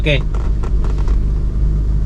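A BMW 628 CSi that has sat unmoved for two years idles with a steady low engine rumble, close and constant, while someone talks over it throughout.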